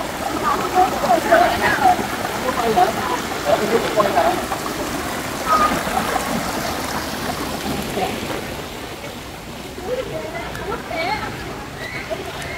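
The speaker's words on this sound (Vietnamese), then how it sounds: "cái suối quá trời dài luôn các bạn" Tà Lọt stream in Tri Tôn, An Giang flows with a steady, close rushing and babbling wash throughout, while a person talks over the water.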